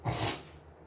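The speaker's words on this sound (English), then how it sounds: "Sorry about the sniffles." A person sniffling, one short wet nasal intake close to the microphone, quiet and brief, fading out quickly.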